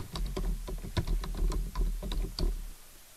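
Quick, light keystrokes clatter on a computer keyboard in a short, irregular burst, close by and fairly quiet, then stop.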